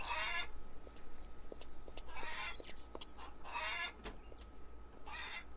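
Chickens in the video game Farmer's Dynasty give repeated clucks and squawks in several bursts, moderately close, over a steady low ambient rumble, with no talking.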